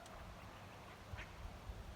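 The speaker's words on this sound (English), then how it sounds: "yeah, he's got a few ducks." Ducks on a fishery lake give a few faint, soft quacks against quiet outdoor background, heard at a distance with no talk.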